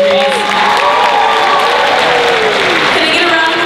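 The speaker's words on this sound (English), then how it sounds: "Can I get a round of applause for all the awesome entries?" Audience at a San Japan cosplay contest applauding the entries, a dense loud wash of clapping and cheering with some overlapping voices.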